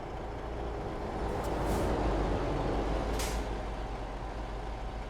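Truck engine drones steadily in a trucking video game, with two short hissing air brake releases breaking through the rumble; no talk.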